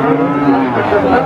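A cow moos loudly and close at a busy rural cattle market near a border area, one sustained low lowing call over a steady murmur of crowd noise.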